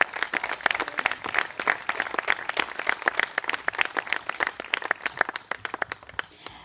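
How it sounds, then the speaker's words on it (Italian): Modest applause from a small audience at a film awards ceremony, steady crisp clapping that continues evenly for several seconds before thinning out at the end. "Facciamogli un applauso."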